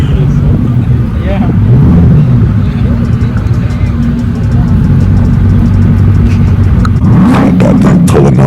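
A car engine revs briefly and pulls away at an exotic car gathering on Broadway, with a Rolls-Royce alongside; the loud, close rumble rises and falls under ongoing talk.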